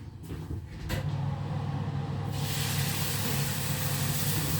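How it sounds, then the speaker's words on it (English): After a couple of clunks, water tipped onto the floor of a hot oven for baking bread bursts into a loud broad hiss of steam that keeps going steadily, close and continuous. "So you can hear that, that's the steam."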